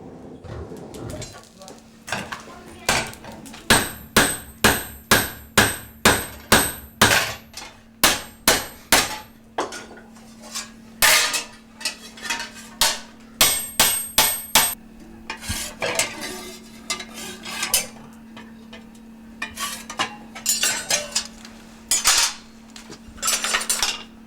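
Copper being hand-hammered in a LiJiang workshop, a run of sharp metallic strikes in bursts with ringing overtones, loud and close, over a steady hum and faint background voices.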